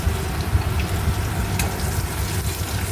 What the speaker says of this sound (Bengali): এবারে কালো জিরে ফোড়ন দিয়ে দিলাম।